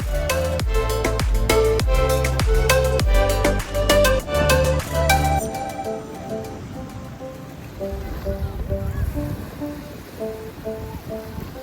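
Beach waves at Boracay, Philippines: after several seconds of rhythmic music, a steady rushing wash of surf fills the rest, broad and moderately loud, with no talking.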